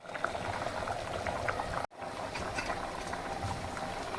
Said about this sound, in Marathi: किती छान उकळी आलेली आहे